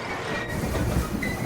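A train rolls along railroad tracks with a dense, steady rumble and rapid clickety-clack of wheels over rail joints, loud and close throughout, with a thin metallic hiss above.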